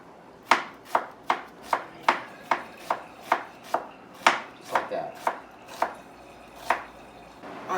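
A knife slices food on a cutting board in a quick, steady series of about fifteen crisp chops, each a sharp tap on the board, close and clear with no talk.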